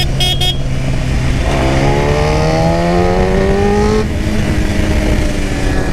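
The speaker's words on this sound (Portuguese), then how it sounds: "BMW S1000RR, coletor Atalla, usando a ponteira Origem" BMW S1000RR motorcycle fitted with an Atalla stainless steel header and Origem tip, revving hard and close with a rising, raspy engine wail climbing through the revs before easing off.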